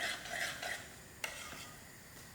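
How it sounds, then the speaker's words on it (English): Hulwa is stirred in a pot over heat, giving soft scraping swishes that fade after a moment and a single sharp clink of spoon on metal, all fairly quiet and close. "you have to keep stirring for it not to settle down to the pot"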